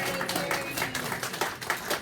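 A general meeting audience gives a brief round of applause for a committee chair, a short spell of clapping with voices carrying through it.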